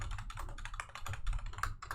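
Rapid, close keystrokes clatter on a computer keyboard in an irregular burst of quiet clicks, with no speech.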